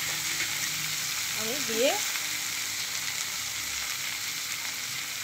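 Fish sizzles and fries steadily in a pan for a Bengali greens dish, a constant bright crackling hiss throughout, with a brief spoken voice over it.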